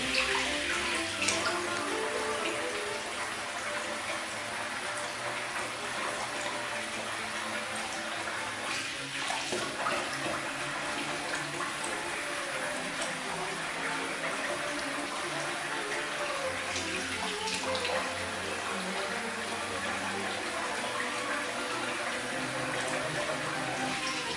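Tap water runs steadily into a sink for rinsing after a wet shave, a continuous close splashing flow with brief faint voice in the background.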